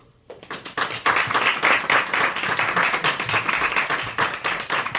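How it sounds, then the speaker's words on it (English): An audience at a Sri Sankara Jayanthi lecture gathering claps together in a close, lively round of applause that starts abruptly and stays even and fairly loud throughout, with individual hand claps distinct in the mix. "Let's give one more round of applause."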